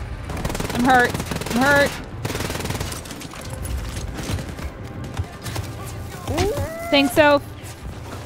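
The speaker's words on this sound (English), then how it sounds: "Who is shooting me?" Rapid gunfire from Wolfenstein: Youngblood comes in short automatic bursts, one near the start, another a second later and a louder pair near the end. Steady game noise runs underneath while a person talks between the shots.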